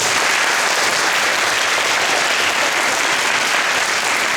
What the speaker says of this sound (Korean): 학교에 오신 손님들께도 다시 한번 큰 박수